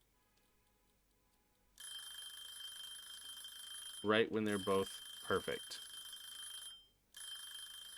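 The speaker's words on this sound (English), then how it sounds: "And we're just gonna let that alarm go." A kitchen timer alarm rings steadily during cooking of salmon and boiled potatoes, a continuous electronic tone that cuts out briefly near the end, while someone talks over it.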